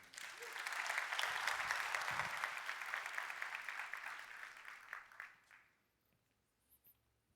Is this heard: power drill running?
no